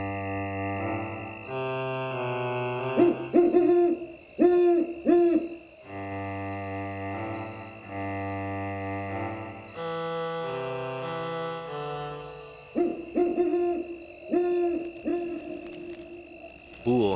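Soft, low owl-like hoots repeat in short phrases over a sustained, harmonic musical backdrop, quiet and spaced out across the passage, with no speech over them.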